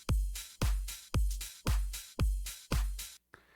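Drum loop from a Ghost Hack sample pack: deep booming kicks with splashy cymbal-like hits in a steady, evenly spaced beat, loud and unaccompanied, cutting off near the end.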